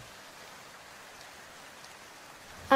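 Steady rain falling outdoors, an even soft hiss of drops lasting throughout, with a sudden louder sound cutting in at the very end.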